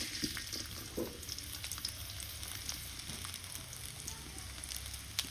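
Chopped onion frying in hot oil in a pan for a home-cooked Bengali curry, a soft, steady sizzle with occasional light clicks, fairly quiet and close.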